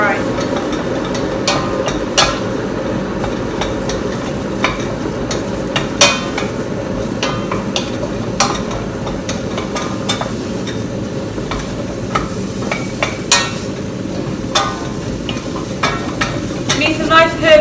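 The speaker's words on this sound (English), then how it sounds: "You can hear that sizzling noise. That's the pumpkin sizzling away." Pumpkin pieces sizzle steadily in a pan for pumpkin soup, with loud, continuous frying hiss broken by frequent sharp scrapes and taps of a utensil as it is stirred.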